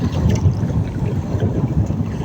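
Strong northeast monsoon wind roars across the microphone at sea during net fishing, a constant low buffeting rumble with waves and boat noise underneath.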